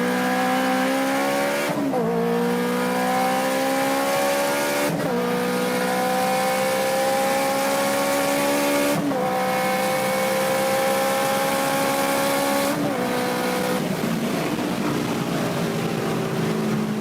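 A Honda Civic's VTEC engine revs hard and close by, its pitch climbing steadily through four gears with brief dips at each shift, loud and continuous with no talking.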